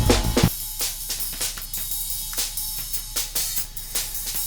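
After a brief full, bass-heavy burst, rhythmic music continues through the Airwindows SlewOnly plugin, sounding thin, bright and airy, with crisp transients on each beat and the low end largely stripped away.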